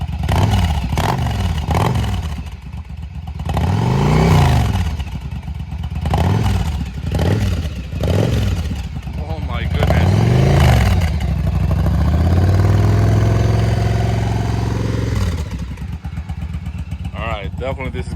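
A Yamaha V-Star 1100 Custom cruiser fitted with Cobra slip-on mufflers, engine still cold, is revved repeatedly: loud, close throttle blips that rise and fall in pitch, then a longer sustained rev before settling back to a rumbling idle.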